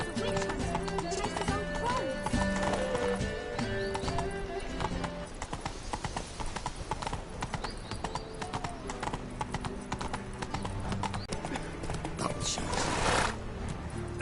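Hooves of Roach, a video game horse in Witcher 3, clip-clop in a steady gallop throughout, with a whinny and other game sounds mixed in.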